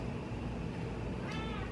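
A cat meowing for tuna in a kitchen, one drawn-out meow rising near the end over a steady background hum, close by and with no talk.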